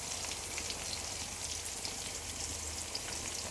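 Ginger garlic paste fries in a pan, giving a steady, dense sizzle and crackle that holds at an even level throughout, with no voices.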